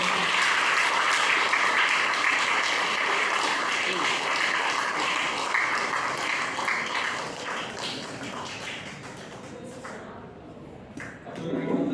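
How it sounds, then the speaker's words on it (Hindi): Sustained applause from an audience at the closing and award ceremony of an annual coaching session, a dense steady clatter of many hands that thins slightly toward the end, with faint voices mixed in. "तालियां बजाते रहें"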